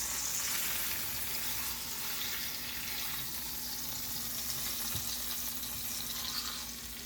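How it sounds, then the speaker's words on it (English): A thick-cut steak sears in a hot pan with a steady, broad sizzle that holds at an even level throughout, with no voices. "I will sear my steak fully fine"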